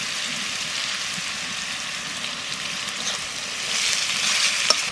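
A steady, close sizzle of garlic, onion and green chili paste frying in a pan, a dense crackling hiss that holds throughout and grows slightly louder near the end, with no voices.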